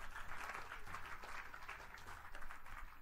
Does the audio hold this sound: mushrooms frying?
no